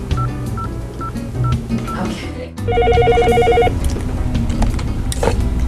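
Phone keypad tones beep as a number is dialed, then a ringing tone repeats steadily over a busy, noisy background, with a brief spoken word.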